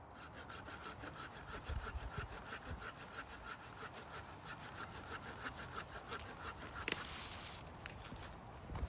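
A hand saw cuts through a low-hanging live tree branch during trail maintenance, sounding as steady, rapid back-and-forth rasping strokes close to the mic with no talking.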